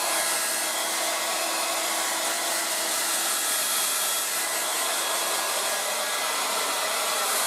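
A Revlon 1800W dual-speed hair dryer runs at full speed, giving a loud, close, steady blowing roar with a constant motor whine that stays unbroken throughout.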